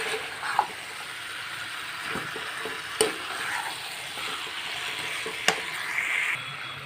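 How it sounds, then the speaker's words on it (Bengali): Chopped meat fried with spices in a pan, a low continuous sizzle broken by a few sharp utensil clinks and scrapes as it is stirred; no one speaks. "এবার এটাকে আমি ভালো করে মশলাটার সঙ্গে মিশিয়ে নেব"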